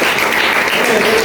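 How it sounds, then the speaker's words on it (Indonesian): A classroom of students claps together, a dense, loud burst of applause filling the short moment without a pause. "Tepuk tangan semuanya"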